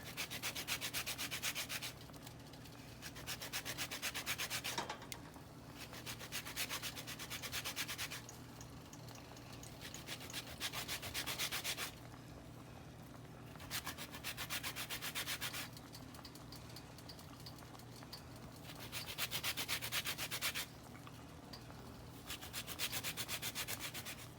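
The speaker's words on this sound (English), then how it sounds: "now I'm gonna zest 1 lemon, just to get some extra flavor" A lemon is zested on a grater for a seafood pasta, with close, rhythmic scraping strokes repeating in steady bursts and short pauses between them, and no talking.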